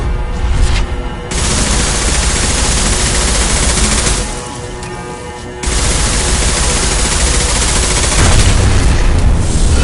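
Heavy gunfire in the Mass Effect 2 video game, loud continuous automatic fire with booming impacts that briefly thins in the middle before resuming at full intensity.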